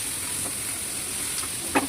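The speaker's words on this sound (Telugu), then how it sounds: "మళ్ళీ అదే ప్యాన్లో కొద్దిగా ఆయిల్ వేసుకొని ఉల్లిగడ్డ, పచ్చిమిర్చి, టమాటా, కొంచెం ఉప్పు వేసి దూరగా వేయించుకోవాలి" Onion, green chili and tomato fry in oil in a pan with a steady, even sizzle and hiss. A faint stir or clink comes near the end.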